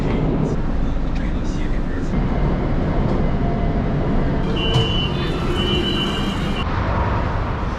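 A metro train riding on Line 5 in Wuhan, China, partly above ground, gives a steady loud rumble of wheels and motor, with a brief high squeal partway through.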